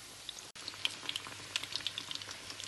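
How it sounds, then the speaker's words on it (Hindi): Four sandwich pieces deep frying in hot oil give a faint, steady bubbling with scattered light crackles and pops throughout. "मैं सिर्फ 4 पीसेस ही इसमें फ्राई करूँगी"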